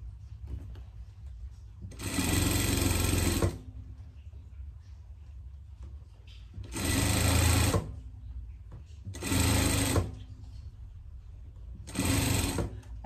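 A sewing machine stitching a seam on a greyhound dog coat, running in four separate whirring bursts of one to two seconds with quiet pauses between, close and clear.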